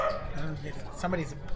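A man imitates a dog in a brief burst of yipping, barking sounds at a poker table, close and loud over background chatter.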